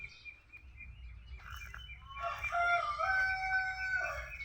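A male turkey gobbles a few metres away in a farmyard, a warbling burst rising over a low rumble of background noise, with softer bird calls earlier.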